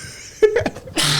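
A single sharp sneeze bursts out near the microphone during a casual podcast conversation, a quick inhaled build-up followed by the explosive burst, with room noise rising just after.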